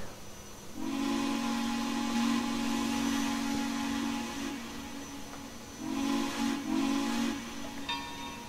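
The steam whistle of Texas State Railroad 2-8-2 locomotive #400 in the Trainz 2019 simulator sounds in two long, chord-like blasts with a breathy hiss, the first held for several seconds and the second shorter after a pause.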